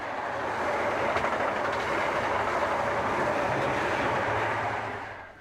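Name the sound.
British Rail HST high speed train running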